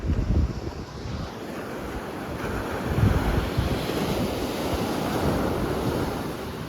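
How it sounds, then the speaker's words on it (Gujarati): Ocean waves roll and crash continuously, with heavy wind rumbling across the microphone; no voices. "એક વખત જોવો તમે કેવો દરિયામાં મોજા"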